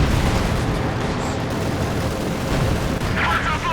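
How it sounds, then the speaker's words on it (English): Heavy mortar shells exploding in the World War II strategy game Company of Heroes 2, a dense, loud, continuous din of booming blasts and gunfire that runs without a break. "It looks like Heavy Mortar really did some nasty work there."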